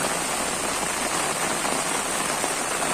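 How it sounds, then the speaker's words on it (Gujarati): Heavy rain pouring down in Jetpur, Rajkot district, a steady dense hiss of drops hitting surfaces that stays loud and unbroken throughout, with no voices. "એટલો બધો વરસાદ જે વરસી રહ્યો છે"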